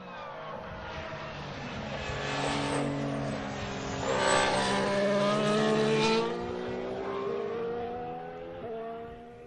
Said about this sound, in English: Very different noise of the Mercedes in the middle of the corner, a bit more gurgling going on to the Renault.